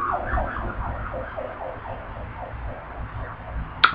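A police car siren wails past in a steady, repeating rise-and-fall sweep, loud and close over low road rumble, with a sharp bump at the very end.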